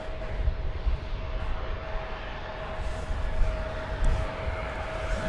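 American Airlines flight 600 from Austin arrives at Dallas/Fort Worth airport, a steady broad jet roar rolling in at a distance with a faint whine riding over it and no talk.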